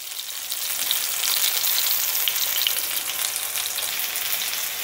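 Chop cutlets fry in hot oil, giving a dense, even crackling sizzle that runs steadily and close throughout with no talk.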